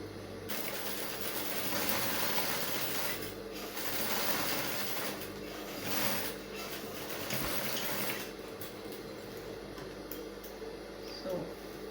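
A sewing machine topstitches a seam on pencil trousers, giving a fairly quiet, continuous mechanical whirring and ticking nearby that surges and eases in short runs, with no talk.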